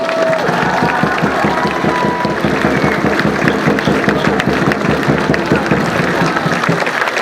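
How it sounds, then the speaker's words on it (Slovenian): A large welcoming crowd in Slovenj Gradec applauds and cheers for climber Janja Garnbret, dense and steady clapping with no pauses and a loud, continuous wash of cheering throughout. "en velik aplavz, prosim"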